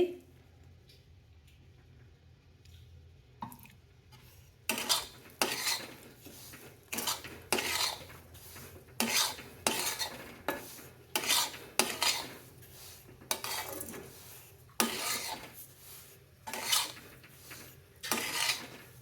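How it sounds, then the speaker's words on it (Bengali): Semolina frying in ghee is stirred steadily in a pan for ladoo, bringing repeated metal scrapes and clinks in an uneven rhythm over a low hum, close and loud, with no one talking. "প্রথমে সুজিটা ভেজে নিচ্ছে পাঁচশো সুজি আছে ঘি দিয়ে দিচ্ছি"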